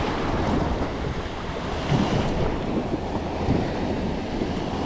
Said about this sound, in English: These waves are like 3-4 feet tall.